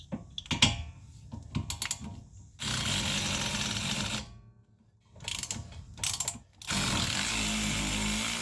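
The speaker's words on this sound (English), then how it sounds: "Little impact ratchet." A small impact ratchet loosens rear brake bolts on a 2019 Ford Escape AWD, with short clicking bursts followed by two sustained buzzing runs, close up and separated by brief pauses.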